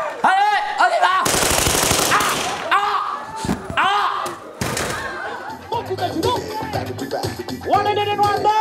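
Bursts of rapid gunfire during a street-theatre stage performance, loud and close, broken up by shouting voices and thuds between the volleys.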